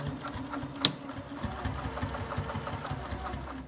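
A metal-bodied sewing machine runs steadily at a moderate pace with a low mechanical hum and rapid stitching clatter, one sharp click partway through.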